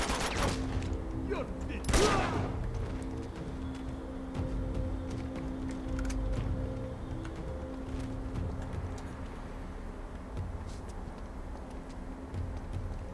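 A few sharp gunshots in Uncharted 2: Among Thieves crack in the first couple of seconds, followed by a steady rumbling game background with a voice talking over it.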